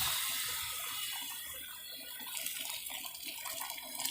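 Hot water from an electric heater poured into a pan of fish curry, a steady hissing liquid stream that slowly shifts into bubbling and gurgling near the end, with no talking over it.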